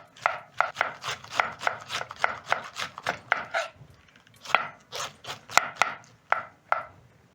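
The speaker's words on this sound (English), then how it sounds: "Pick the next cabbage and also thinly slice." Red cabbage thinly sliced with a knife, a quick steady run of crisp cutting strokes, a short pause, then another rapid burst, close and clear.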